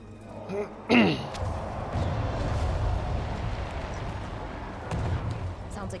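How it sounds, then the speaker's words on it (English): Deep, rumbling explosions in the video game Dragon Age: The Veilguard, a sharp blast followed by a long rolling boom that lingers, then another swell of detonation, with game voices mixed underneath. "Some big explosions."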